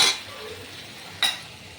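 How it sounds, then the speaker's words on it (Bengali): Spices being sautéed in a pot for vegetarian ghugni give a low, steady sizzle, with two brief scraping clinks of a stirring utensil against the pot, one at the start and one near the end. "আর এখানে এই যে মশলা কষানো চলছে"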